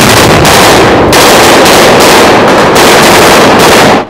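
Loud, close bursts of rapid blank gunfire mixed with heavy stun grenade blasts, dense and continuous for several seconds before cutting off abruptly.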